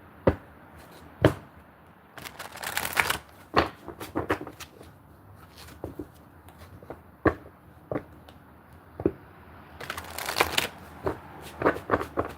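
A tarot deck is shuffled and handled up close, with irregular crisp card slaps and riffling bursts scattered over quiet stretches and no talking.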